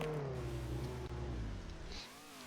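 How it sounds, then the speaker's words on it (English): A Camaro in the Roblox Jailbreak video game revs with a loud droning engine note that slides downward in pitch and then eases off, with no talk. "this person driving around a Camaro. Now this person, they are trying out their drifting skills"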